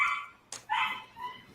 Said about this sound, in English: I think the dog is trying to bid.